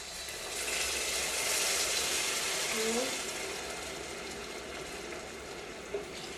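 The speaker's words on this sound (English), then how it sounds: "And then I will now put 4 cups of water" Water is poured steadily from a cup into a pot of stirred rice, giving a sustained close gushing fill that eases off partway through and ends with a small clink.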